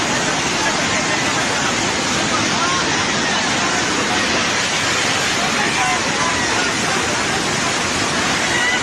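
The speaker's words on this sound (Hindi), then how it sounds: "नुवाकोट में त्रिशूली नदी का उफान देखिए जरा।" Floodwater of the Trishuli river surges through Nuwakot, Nepal, a steady, loud broadband roar of rushing water that holds unbroken throughout without pauses.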